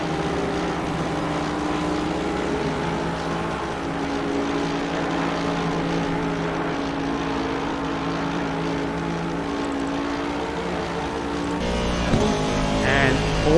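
Race cars, a Porsche among them, run along the Kemmel Straight at Spa in a racing game, a steady engine drone holding throughout, with a louder surge and an abrupt change near the end.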